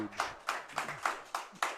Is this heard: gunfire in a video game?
no